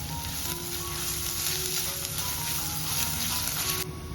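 Sliced onion with chopped ginger and garlic sautés in a pan, a continuous dense sizzle heard up close with light stirring and a faint hum underneath.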